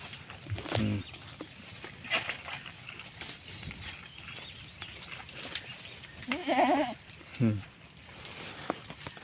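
Goats bleat on a small goat farm, a few short, wavering calls spaced apart at moderate distance over a steady high insect-like whine and light background noise.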